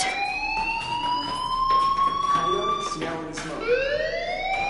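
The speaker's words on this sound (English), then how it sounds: "do you hear that fire alarm?" A school fire alarm in the video game Life is Strange wails in rising and falling electronic siren tones, ringing continuously at moderate loudness with indoor noise underneath.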